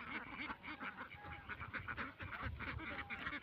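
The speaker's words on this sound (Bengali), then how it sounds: "হাঁসগুলো মাঠেতে এই পানি থেকে উপরে শুকনো মাটিতে তুলে দেওয়া হয়" Ducks quacking in an open field after being moved from water onto dry ground, a rapid run of overlapping quacks at moderate distance, faint and continuous.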